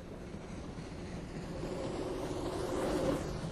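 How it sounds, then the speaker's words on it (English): A train pulls away from a standstill with a steady low rumble that slowly swells louder as it gets moving. No voices are heard over it. "Let's start the train again."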